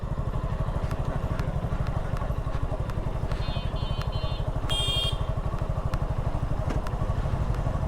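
A motorcycle descends a steep slope on a busy road in Dinajpur, its engine holding a steady, close, low pulsing throb with light clatter throughout, and a brief chirp heard midway.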